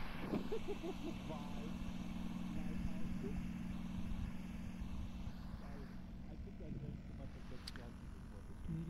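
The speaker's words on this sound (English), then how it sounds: "It sounded like some airplane coming by." An airplane drones past, picked up faintly through an open microphone during an online voice chat in a virtual world, as a steady low rumble under people talking.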